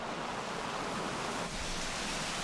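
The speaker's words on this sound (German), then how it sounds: "Das Wasser läuft aus der Rinne von oben in die Schaufelkammern." Water pours from a gently sloping wooden trough onto an overshot waterwheel weighing about 3.5 tonnes at a water-powered sawmill, a steady, dense, hissing rush with no break.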